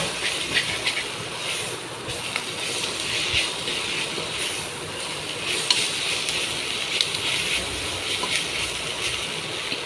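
Dried prawns sautéing in a hot pan for a Mangalore dried prawn curry, a continuous close sizzle and hiss with small crackling spikes as they are stirred, no voices.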